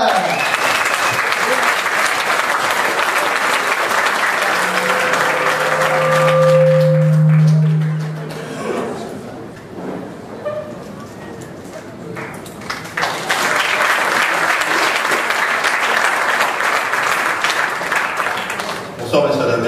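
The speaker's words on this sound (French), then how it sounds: "Je m'en vais vous faire un tonnerre d'applaudissements." An audience gives a performing artist a thunderous welcome at an open-air show: loud, sustained clapping with a brief tonal tone and a voice mid-way, a quieter lull, then a second strong burst of applause.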